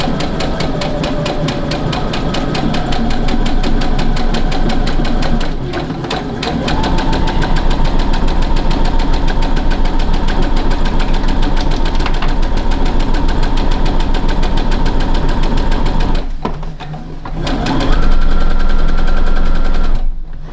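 A sewing machine stitches teddy fabric for a headband, a loud, fast, steady mechanical rattle and hum that briefly stops and restarts twice, close up with no talking.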